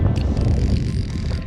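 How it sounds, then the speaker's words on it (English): Strong wind buffets the microphone while fishing on a modest-sized lake, a steady loud low roar and rumble filling the whole moment with no voices. "It is windy out."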